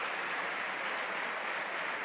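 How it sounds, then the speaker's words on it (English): Steady, dense crowd applause from a large stadium audience at a football match involving Spain, a continuous even wash of clapping with no distinct pauses. "Warm applause."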